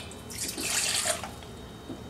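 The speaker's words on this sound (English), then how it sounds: "We're going to start off by adding the warm water to the bowl." Warm water poured from a tap into a bowl for pizza dough, a close splashing stream lasting about a second before trailing off into a few faint drips, with no talking.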